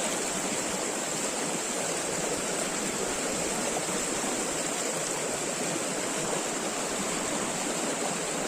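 Steady, dense rush of water without pause, consistent with a stretch of water being beaten and splashed to drive fish into a net in the Konkan, loud and continuous with no talking.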